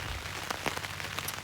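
Steady patter of rain drumming on a camping tarp in a wet autumn campsite, a dense, continuous hiss with scattered sharper drop hits, close and moderately loud, no voices.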